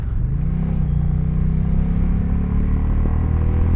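A 2020 Indian Challenger motorcycle engine revs up and holds a high, steady drone, loud and close, the pitch climbing at first then sustaining, with no talking.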